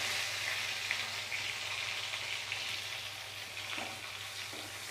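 Ginger, garlic and small shallots frying in hot oil for a tempering in a Tamil okra kara kuzhambu, giving a steady, close sizzle throughout with no talking.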